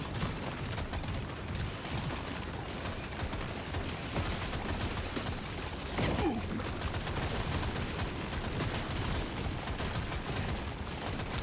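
Rapid, continuous gunfire from automated turrets in the video game Deep Rock Galactic: Survivor, a dense unbroken rattle of overlapping shots filling the whole stretch at steady loudness.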